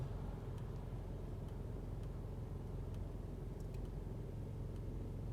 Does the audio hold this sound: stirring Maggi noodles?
no